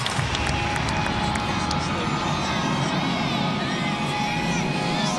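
Arena crowd at a women's college gymnastics meet, Auburn at Georgia, cheers and claps in a steady, dense roar after a landing, loud and unbroken throughout.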